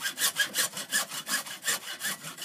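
A hacksaw cuts through PVC pipe for a basement sink repair, the close, steady rasping strokes rising and falling in an even back-and-forth rhythm, about five strokes every two seconds, with no voices.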